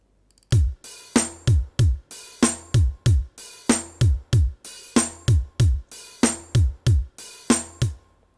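Drum beat elements from a Logic Pro remake built with stock plugins: punchy kick and snare hits in a steady, loud hip-hop groove with crisp hi-hats, playing alone without any melody.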